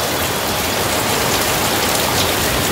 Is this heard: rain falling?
yes